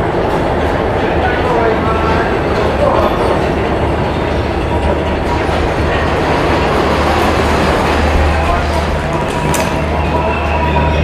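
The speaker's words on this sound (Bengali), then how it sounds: "তো বন্ধুরা, ট্রেন আমার এসেছে।" A train pulling in at a railway platform fills the scene with a steady, loud rumble of wheels and carriages, broad and continuous throughout, with a faint squeal near the end.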